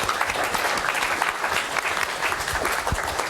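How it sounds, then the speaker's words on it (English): A university lecture audience gives a steady round of applause for a speaker, dense clapping that fills the room evenly throughout. "Can we just give a round of applause straight away?"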